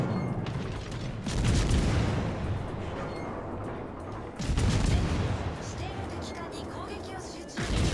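Warship guns in World of Warships fire in heavy booming salvos, with loud blasts around two and five seconds and another near the end, separated by rumbling battle ambience and talk.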